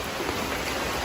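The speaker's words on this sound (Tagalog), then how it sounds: "Lakas ng ulan, no?" Heavy rain pours steadily, a dense continuous hiss of drops drumming on surfaces close by, with no break in intensity and no voices over it.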